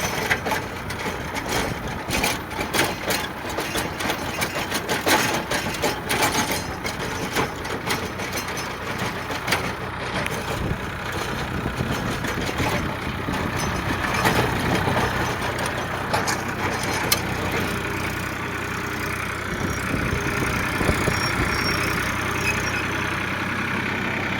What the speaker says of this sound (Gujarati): આવું કટર હાલે છે